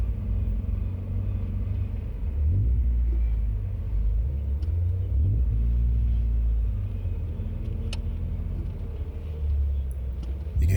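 A Mazda MX5 with a twin cam 1600 engine laps a race track, its engine a heavy, steady low rumble heard from inside the car, rising and falling slightly as it is driven, with no talking.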